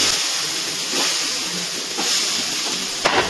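Fried potatoes go into a sizzling spice mixture in a pan, giving a loud continuous hiss with a few soft stirring bumps and a sharper clatter near the end.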